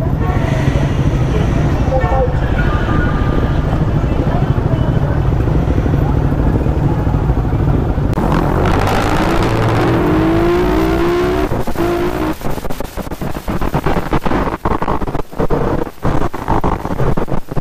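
A group of motorcycle riders in full gear on the road: a continuous engine drone under wind buffeting, with uneven bursts and gusts toward the end and talking now and then.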